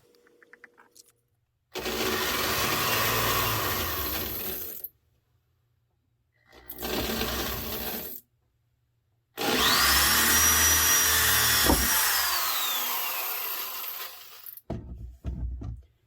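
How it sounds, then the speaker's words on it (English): Power drill fitted with high-speed steel bits boring holes through a steel chassis, heard in three separate loud bursts of whining, grinding metal cutting, with pitch rising and falling as the bit bites and breaks through. "let's drill some holes"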